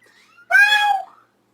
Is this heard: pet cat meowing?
yes